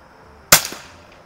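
A Quackenbush safety cartridge rifle fires a single CCI standard velocity round at an outdoor range, giving one sharp, close crack with a short fading tail.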